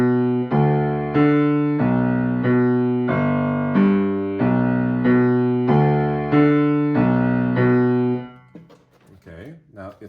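A piano plays both hands together in the opening measures of a Level 1 adult beginner piece, with steady, evenly spaced notes and chords ringing close and clear for about eight seconds before a short trailing tail.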